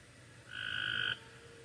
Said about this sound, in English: Yeah, the frogs are back again.